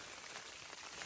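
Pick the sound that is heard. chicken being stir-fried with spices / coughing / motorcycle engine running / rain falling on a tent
rain falling on a tent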